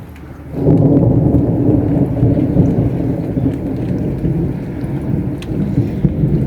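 A low rolling rumble of thunder swells in over steady heavy rain, loud and sustained with no voices, during a storm in Greece.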